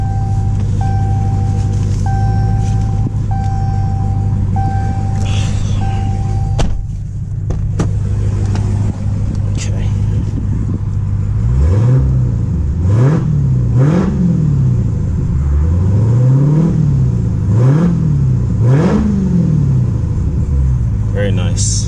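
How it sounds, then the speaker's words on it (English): A 2016 Dodge Challenger Hellcat idles with a deep, loud rumble, then its supercharged engine is blipped several times in a row, each rev rising and falling close by, while someone talks over it. "let's go give this thing a couple of revs."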